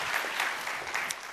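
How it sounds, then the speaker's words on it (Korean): A church congregation claps together in a short burst of applause, a dense, even patter of many hands filling the room. "하나님께 감사와 영광의 박수 올려드리겠습니다"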